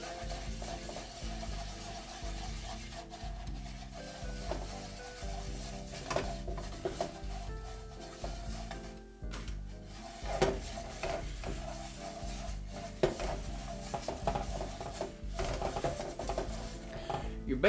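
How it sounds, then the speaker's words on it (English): Flour being stirred into gravy in a pan to make a roux, a spoon scraping and tapping the pan in an uneven rhythm over a low sizzle, fairly close and moderately quiet. "You wanna stir it up really, really good so you don't have any lumps in it."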